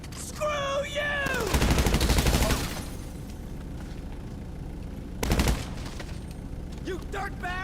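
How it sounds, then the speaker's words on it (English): Automatic gunfire rattles during a GTA 5 Online vehicle robbery shootout: a long rapid burst, then a shorter one a few seconds later, with shouting voices in between. "We're receiving fire!"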